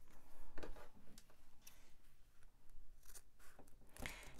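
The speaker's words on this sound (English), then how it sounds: "I'm going to trim off my excess zipper." Quiet scissors snip and crunch through excess zipper on a sewn pouch, several short cuts spaced unevenly in a soft room.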